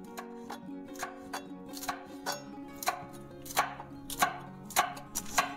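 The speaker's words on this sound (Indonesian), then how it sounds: "Saya iris serong cabai hijaunya." A knife slicing six large seeded green chilies diagonally on a cutting board, making a run of crisp, regular chops at close range that quicken and grow louder toward the end, with no voices.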